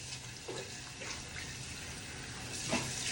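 Tap water runs steadily into a bathroom sink during a nighttime washing routine, a continuous close hiss with small splashy surges as hands move through the stream.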